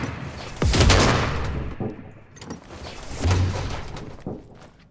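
Bursts of gunfire in the video game Fortnite, a heavy volley near the start and another about halfway through, loud and close with a thudding low end, no talking over it.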